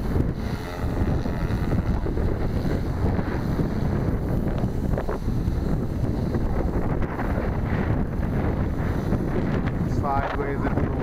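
Strong outdoor wind buffets the microphone in a continuous, loud roar during a flight, with a voice speaking underneath at times.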